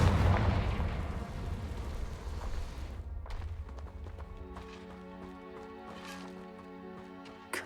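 A Confringo fire spell explodes in a Harry Potter video game, a loud broadband blast that rolls off into rumble and then gives way to a quieter musical tail.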